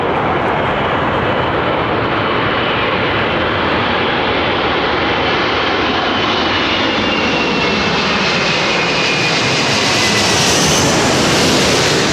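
Jet airliner engines roar loudly and steadily at London Heathrow Airport, a dense broadband rumble that builds slightly toward the end as the aircraft passes close by, with no voices.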